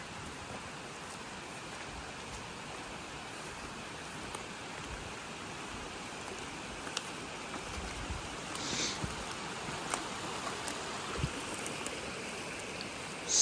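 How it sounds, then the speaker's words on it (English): Storm runoff flowing down from a hill into a ditch beside a pond-bottom excavation, a steady faint trickling hiss of running water throughout with a few small splashes. "we got some running water."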